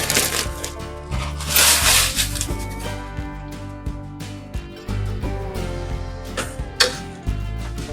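A utensil mixes moist bread stuffing for roasted turkey in a pan, giving repeated soft scraping and clattering strokes at a steady rhythm, with tonal background music running underneath.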